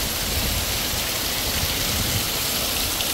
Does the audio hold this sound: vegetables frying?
no